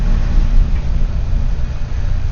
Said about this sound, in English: It's the snowplow going by.